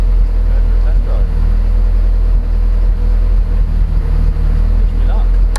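A 500bhp Audi A3 engine idles with a loud, steady, deep rumble that holds constant and close throughout.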